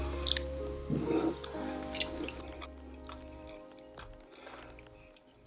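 Someone chews crispy tofu with fried rice at close range: soft, wet crunching and squishy bites in a quiet room, loudest in the first couple of seconds and then fading to faint mouth sounds.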